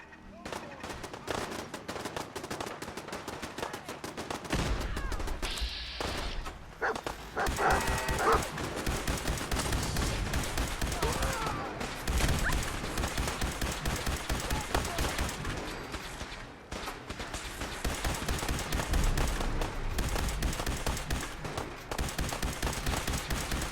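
Heavy gunfire from a weapon in Fallout 4 rattles in long rapid bursts, loud and dense, with brief pauses between volleys and a voice talking underneath.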